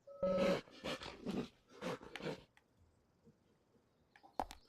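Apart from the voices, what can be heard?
dog barking in the video game Deadly Premonition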